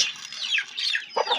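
An Aseel hen clucks in quick, bright bursts, close by, with a few short pauses between calls.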